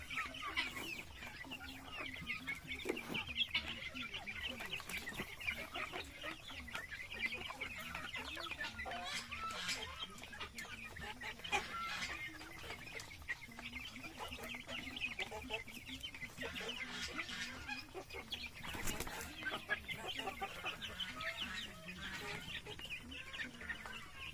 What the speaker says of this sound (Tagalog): Yung upgraded native chicken natin.